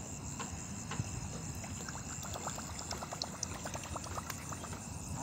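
A Whopper Plopper topwater lure chugs across the water during night fishing, its rotating tail giving a steady run of short, repeated splashy clicks that hold an even rhythm, with crickets and insects chirping in the background.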